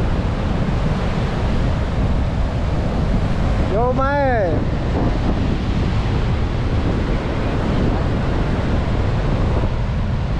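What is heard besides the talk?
waves of a rough sea at the shore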